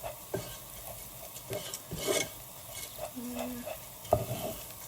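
Rice for Nigerian fried rice being stir-fried in a pan: a soft sizzle under repeated scraping strokes and clinks of a spoon on the pan, fairly close.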